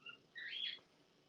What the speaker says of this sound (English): I know you can probably hear the birds,